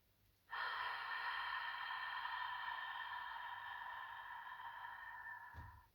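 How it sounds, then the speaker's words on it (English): A long, smooth hissing breath exhaled through an open mouth during a gentle yoga breathing exercise, starting abruptly and holding steady for about five seconds before tailing off, close and quiet with no talk. "open the mouth and make a hissing sound, a long, smooth sound in the back of the throat"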